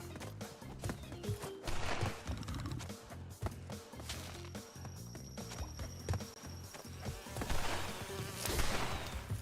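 Video game bee buzzing amid busy game sound effects and music, a steady insect drone running through the scene with rhythmic thumps and occasional sharp accents, fairly loud and with no speech.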